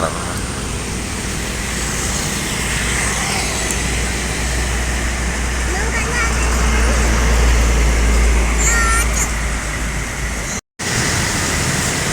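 A bus rumbles past on a busy road with steady traffic noise, its deep engine drone building and swelling loudly near the middle before fading, with constant broadband road roar throughout.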